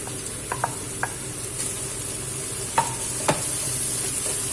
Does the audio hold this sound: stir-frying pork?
yes